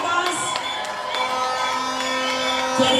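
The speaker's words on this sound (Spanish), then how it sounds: "Un fuerte aplauso para nuestras demás candidatas" A crowd at a beauty pageant cheers and shouts for the candidates at a live evening event, a busy wash of voices and whoops with sustained tonal music underneath, moderately loud.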